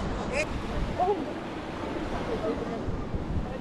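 Ocean waves surging onto the rocky shore at Cascais, a steady broadband wash of surf with wind noise, fairly loud and continuous, with faint voices now and then.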